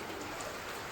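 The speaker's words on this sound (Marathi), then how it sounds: "पाऊस बघताय का, थोडा जोरदार पाऊस होतोय." Heavy rain falls at early morning, a steady broadband hiss of drops on surfaces with no pauses, filling the short moment evenly.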